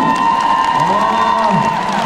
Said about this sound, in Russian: давайте вам аплодируем.